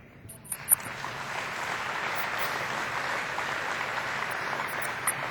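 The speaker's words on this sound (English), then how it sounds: "you all should give yourselves an applause for that" Crowd in a school gymnasium claps in a steady, moderately loud wash of applause that fills the room, with a few sharper taps near the start.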